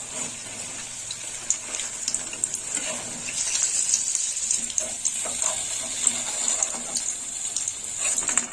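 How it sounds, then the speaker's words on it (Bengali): Paneer cubes fry in hot oil in a pan, a steady close crackling sizzle with sharp pops, no voices. "এবার পনিরটা ভেজে নেব।"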